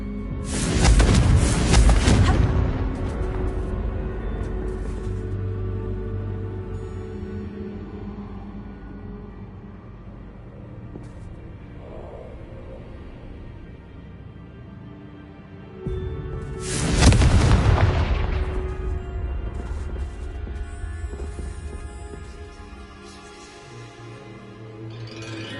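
Two heavy booming blasts from the Confringo fire spell in Hogwarts Legacy, one near the start and another around the middle, each followed by a long rumbling decay under quieter game ambience.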